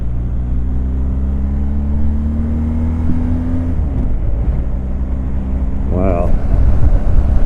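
BMW R 1250 GS motorcycle engine accelerating in second gear, a steady rumbling drone that rises in pitch under wind noise, with a brief voice near the end.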